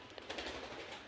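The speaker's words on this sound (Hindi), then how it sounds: "चिड़ियों ने बड़ा शोर करके रखा पड़ा है, बहुत ही ज़्यादा" Garden birds chirp and squabble together in a soft, continuous chatter with a few cooing calls mixed in, heard at a moderate distance and without talk.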